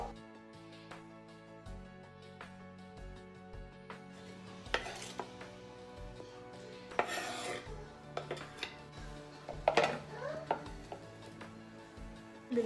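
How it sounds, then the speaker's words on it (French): A knife chops a red onion on a board, a steady series of close, muffled thuds at an even pace, joined by light clatter of kitchen utensils with no talk. "Je vais découper mon oignon violet."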